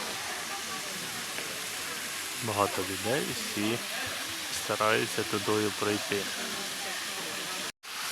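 Constant roaring rush of a waterfall built from stone in a Japanese garden in Przesieka, Poland, close by, loud and steady, with people talking over it.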